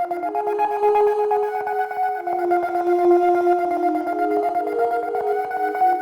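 Layered Glowvox synth on a Digitakt 2, a tremolo-modulated voice stacked over the plain monophonic one, playing sustained steady tones with a faint pulsing shimmer at moderate level, no drums and no talking.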